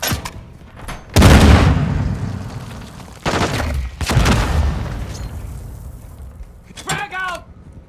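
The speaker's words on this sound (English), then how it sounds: "Friendly cluster mine planted." Cluster mine explosions in Call of Duty MWII multiplayer, Drop Zone mode on the Dome map: a heavy boom followed by two more rumbling blasts a couple of seconds later, with a short voice near the end.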